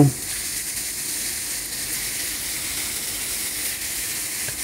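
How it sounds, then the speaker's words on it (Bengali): Saury fish fry in hot oil in a pan, giving a loud, steady, close sizzle that hisses unbroken from start to finish, with no voices. "এখন ফ্রাই করব"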